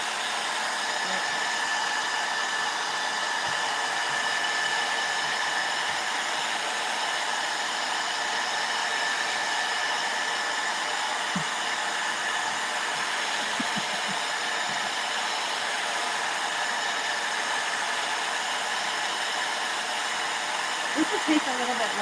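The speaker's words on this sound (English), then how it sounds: "I am using the hottest setting on my hair dryer to dry it as fast as I can" Hair dryer on its hottest setting blowing steadily over ink on bleach-dyed flannel, a loud even whooshing roar held close throughout with no breaks.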